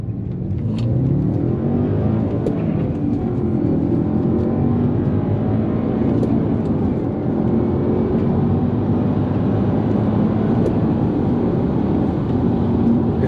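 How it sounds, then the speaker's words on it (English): An Audi S5 coupé's V8 engine hums steadily as the car accelerates, a loud continuous drone with road noise that slowly rises in pitch. "you might hear the engine up front"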